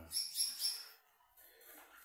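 Small birds chirp in a home setting shared with a German shepherd, three quick bright high tweets in a row followed by fainter twittering, quiet and fairly close.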